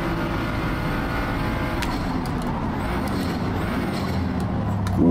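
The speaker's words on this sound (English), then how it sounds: "Sort of like a BMW kind of M3 kind of engine noise," Straight-six car engine in the style of a BMW M3, racing in Forza Motorsport, holds a steady loud drone throughout with a sharp rise at the very end.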